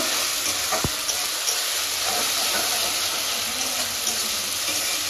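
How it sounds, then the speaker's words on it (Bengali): Onion already fried down with ground cumin paste, ginger and black pepper paste, stirred in a pan for chicken curry, giving a steady close sizzle and hiss with occasional scraping, and no one talking. "পেঁয়াজটা ভাজা হয়ে গেছে, এখানে জিরে বাটা, আদা, গোলমরিচ সব মশলা পুরোটাই দিয়ে দিয়েছি। ভালো করে কষিয়ে নেব।"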